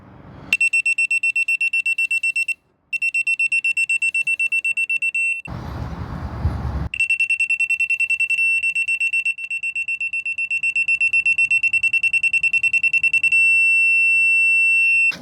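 A FireCore F93-FD40 laser receiver box sounds a piercing high-pitched alarm beep in rapid repetitive pulses, very loud and close, briefly interrupted by a pause and a burst of handling noise.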